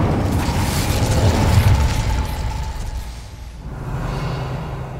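An Incendio fire spell blasts a gate open in Hogwarts Legacy with a loud, close, rumbling burst of fire and a whoosh that fades over a few seconds, then a low mechanical rumble follows.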